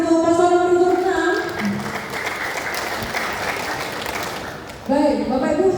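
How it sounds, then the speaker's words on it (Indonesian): An audience at a regency election debate in Lembata applauds a candidate pair, several seconds of steady clapping between stretches of amplified speech at the start and end. "terima kasih tepuk tangan untuk paslon nomor 6"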